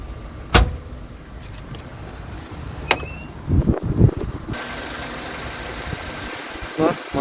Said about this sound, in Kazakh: Мотор тынч эле иштейт экен.